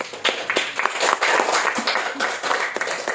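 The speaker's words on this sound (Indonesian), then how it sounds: "Kasih tepuk tangan untuk kelompok 1." Classroom students clap for a group at an Indonesian lesson, a dense patter of many hands close by, steady for about three seconds with no talk.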